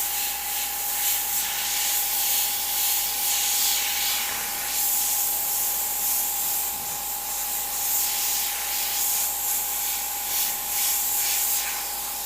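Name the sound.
airbrush spraying candy paint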